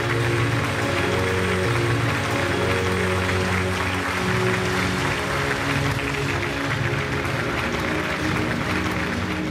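Sustained applause from a large audience at the Chittara Star Awards 2024 ceremony, a dense, even wash of clapping filling the hall without a break.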